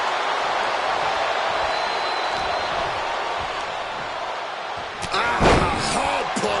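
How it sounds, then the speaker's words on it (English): Drew McIntyre and John Cena in a King of the Ring wrestling match, one slammed onto the mat by a spinebuster: a single heavy thud near the end cuts through steady crowd noise. "Oh, what a spine buster."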